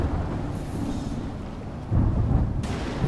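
Rumbling thunder and steady rain during a storm in the survival game Smalland: Survive the Wilds, with a low roll that swells louder near the end, no voices.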